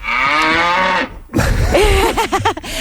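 A cow moos in two bursts: a long, steady low call for about a second, then after a short gap a louder, wavering moo with a rising and falling pitch.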